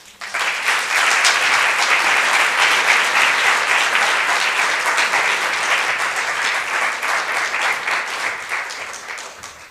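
An audience at an exhibition curator talk applauds to welcome curator Merry Foresta, a dense, steady round of clapping that swells quickly, holds for several seconds, then slowly thins out.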